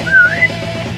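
A short melodic whistle opens a remix of Sonic's theme in the Sonic Adventure 2 video game, a bright rising-and-falling phrase over a low musical bed.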